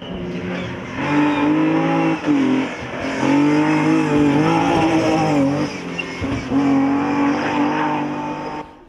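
Rally car driven hard on a stage of the 2017 Rallye de la Semois in Belgium, its engine loud and close as it revs up and down through repeated gear changes and lifts.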